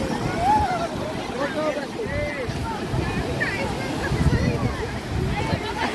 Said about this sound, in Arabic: احلى حاجه اللي انت تسمعي صوت الميه كده